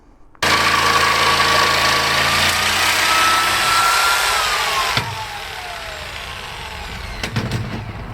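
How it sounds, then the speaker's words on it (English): A cheap jigsaw cuts plywood for a new floor in a 1971 VW Bus, buzzing loudly and steadily at a high pitch, then winding down after a sharp knock, with a few clatters near the end. "Very cheap and cheerful jigsaw, but it will do the job"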